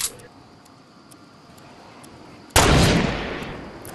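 In Fortnite, a quiet stretch with faint ticking gives way to one loud, close gunshot blast that rings out and slowly decays.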